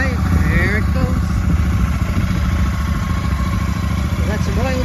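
Close, steady idle of a 2024 Royal Enfield Super Meteor 650 twin-cylinder motorcycle engine just after start, an even loud thrum with no revving throughout.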